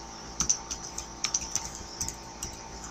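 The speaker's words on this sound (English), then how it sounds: "you type in your message here" Typing a message on a computer keyboard: close, crisp key clicks in irregular bursts with short pauses, no voices.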